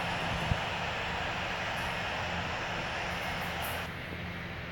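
Boeing 737-800 jet engines in the Infinite Flight simulator, a steady broadband roar while taxiing, loud and continuous with a faint whine on top, one brief low thump early on and a slight drop near the end.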